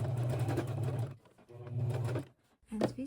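A sewing machine stitching a small demilune leather bag runs in two short bursts of steady, close mechanical whirring, separated by a pause, followed by a brief clunk.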